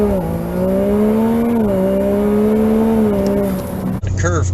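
A 2020 Ford F-150 twin-turbo pickup accelerating, recorded from inside the cab: a loud, steady engine drone that rises in pitch through the gear, cutting off near the end as it shifts.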